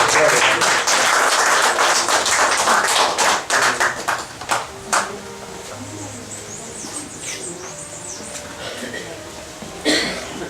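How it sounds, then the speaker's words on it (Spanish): A church congregation applauds in a burst of clapping that is loud at first and then breaks up into scattered claps, with quieter room sound and a few later taps. "Den un aplauso al Señor"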